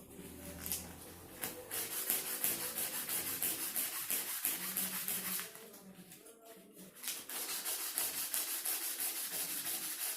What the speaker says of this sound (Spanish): Después que le bajo la lija de 1000, le vas a la de 2000.